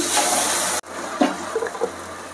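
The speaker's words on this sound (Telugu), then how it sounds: "ఇప్పుడైతే వాటర్ వేసుకుంటారు మనం." Water pours in a rush into a cooking pot of sorghum upma, cuts off abruptly, followed by softer sloshing and a few small splashes and clinks.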